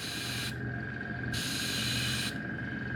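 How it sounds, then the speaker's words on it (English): Two bursts of aerosol spray paint hiss, close and steady, each lasting about a second with a brief pause between them, while painting miniature wargame terrain. "I'm gonna spray a little bit to the side."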